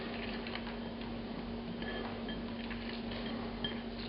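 An electric spice grinder works whole spices with salt, a steady motor hum under a fast, even rattle and ticking of the hard pieces being ground.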